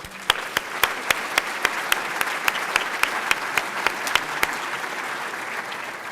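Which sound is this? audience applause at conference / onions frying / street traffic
audience applause at conference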